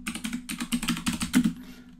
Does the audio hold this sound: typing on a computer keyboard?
yes